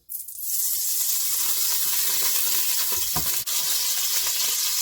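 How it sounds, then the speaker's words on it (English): Oil going into a pot on medium heat for chili con carne, a steady broadband hiss and sizzle beginning almost at once and holding evenly for several seconds, with a brief faint clink partway through. "On medium heat I'm going to put some oil in."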